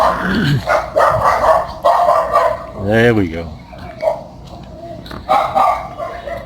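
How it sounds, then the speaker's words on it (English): Dogs bark and yip in short bursts from a little distance, while someone talks over them. "as you can hear, my favorite puppies are barking"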